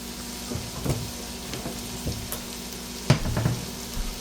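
Ground beef and vegetables with chili seasoning and dry smoke rub sizzle softly in a pan, punctuated by occasional spoon knocks and scrapes from stirring.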